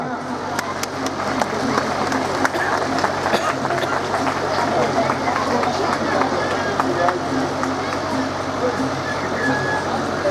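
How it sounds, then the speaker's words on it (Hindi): Audience applause at an annual function, steady dense clapping from a crowd lasting the whole stretch, mixed with crowd murmur and a voice speaking over it. "तालियां।"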